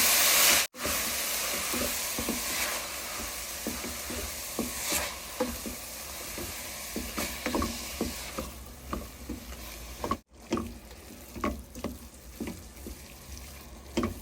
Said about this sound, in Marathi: या ठिकाणी आपण हे छानपैकी मिक्स करून आणि परतून सुद्धा घेतलेले आहे